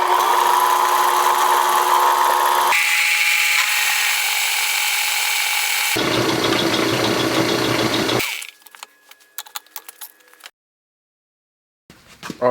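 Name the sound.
drill press drilling through steel mounting plates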